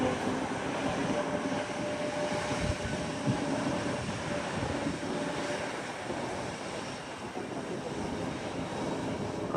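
A United Boeing Dreamliner airliner at San Juan's SJU airport gives off a steady, broad engine roar that holds level for the whole stretch, a continuous rumbling wash with no voices over it.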